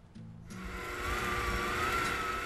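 An electric mixer starts up on high speed whisking egg yolks and lime zest, its whine ramping up after a brief click and settling into a loud steady whir.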